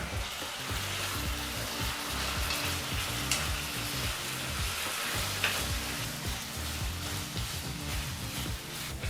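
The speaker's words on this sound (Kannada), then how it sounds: "ಒಂದು ಟೊಮೊಟೊ ಹಣ್ಣನ್ನು ಹಾಕಿ ಎರಡರಿಂದ ಮೂರು ನಿಮಿಷ ಟೊಮೊಟೊ ಹಣ್ಣನ್ನು ಸಹ ಫ್ರೈ ಮಾಡ್ಕೋಬೇಕಾಗತ್ತೆ" Tomato and capsicum sizzle steadily while frying in a pan for poha bisi bele bath, with scraping stirs and occasional clicks of a spatula throughout, close and continuous, no voices.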